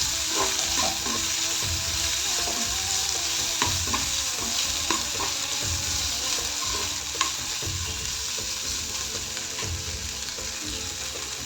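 Chopped onion and ginger-garlic paste frying in oil for bhindi masala curry, a steady loud sizzle with repeated scraping clinks of a spoon stirring the pan, no voices.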